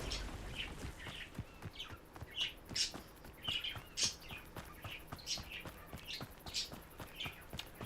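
Birds chirp and tweet in a steady run of short, bright calls, some close and some farther off, over a faint background with no talking.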